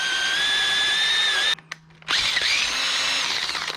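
Power drill boring through a fiberglass bike fender, a loud steady high whine that cuts off for about half a second, then restarts with a rising spin-up and grinding bite into the material.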